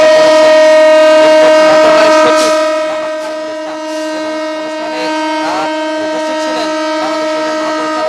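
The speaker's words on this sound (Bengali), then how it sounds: "উদ্বোধনী বিশেষ ট্রেন সেটি কিন্তু যাত্রা শুরু করেছে" A loud, sustained train horn blares with a steady droning tone, fading slightly as rumbling rail noise and clatter continue beneath it, as an inaugural train departs across the Jamuna Railway Bridge.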